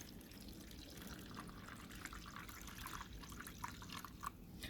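Jamaican suck suck drink mixture is poured steadily, with a continuous close watery rush and a few small drips and splashes, and no talking.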